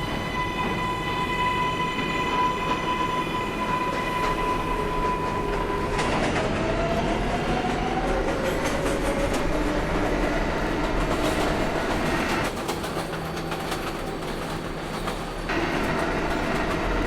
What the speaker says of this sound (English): This is a Brooklyn Bridge-bound 6 train.